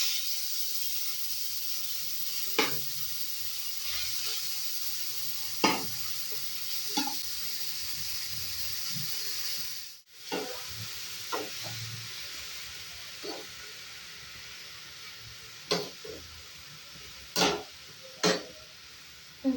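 Grated gooseberries fry in two spoons of ghee for a halwa-style sweet, a soft continuous sizzle with occasional sharp taps and scrapes of a spoon, fairly quiet and unaccompanied by talk.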